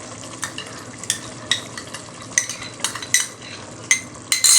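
Yogurt, tamarind, green chilies and spice masala for Sindhi chicken biryani being stirred in a pot, with a soft sizzle under repeated sharp scrapes and clinks of a metal spoon against the pan, the loudest near the end.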